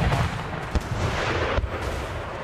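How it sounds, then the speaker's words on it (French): Artillery pounds away in a WWII strategy video game, a dense rumbling barrage with a few sharper thuds standing out, loud and continuous with no talk. "Je suis fatigué de l'artillerie."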